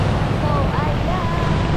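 Strong wind buffets the microphone at a beach resort in San Felipe, Zambales, a loud, low rumbling gust with surf in the background and a voice faintly audible underneath.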